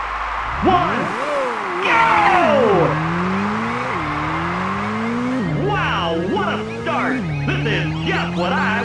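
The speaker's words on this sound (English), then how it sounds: "The engines sound like they're ready to go." Race car engines in an arcade racing game rev and climb through gears in repeated rising sweeps, loud and up close, with the pitch dropping at each shift and tire squeals layered on top.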